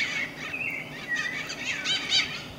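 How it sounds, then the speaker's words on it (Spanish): A flock of parakeets calling in a rural village setting, a busy run of high chirps and squawks overlapping steadily, fairly near and clear with no voices. "Esa es la manada de pericos, ¿verdad?"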